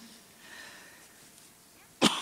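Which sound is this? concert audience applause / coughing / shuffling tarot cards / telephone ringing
coughing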